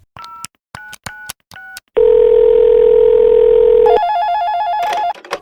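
A telephone call to the police: several short bursts of dial tones, then a loud, steady dial tone for about two seconds, followed by a warbling ringback tone.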